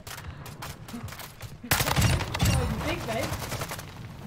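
Gunfire in the zombie mode of the video game Warzone, heard as rapid bursts of near automatic shots, denser and louder in the second half, with people talking over the shooting.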